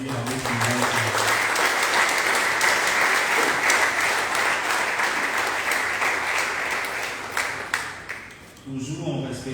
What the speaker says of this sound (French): nous tenons à vous remercier par une salle d'applaudissements